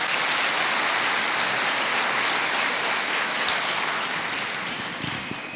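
A church conference crowd in Goiânia applauds Giovanni with a dense, steady wash of clapping that stays loud throughout and tapers slightly toward the end.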